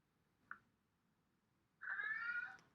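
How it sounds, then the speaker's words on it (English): A pet cat named Gizmo gives a faint, brief chirp followed moments later by a clearer, drawn-out meow, both quiet and close in an otherwise still room. "He's meowing."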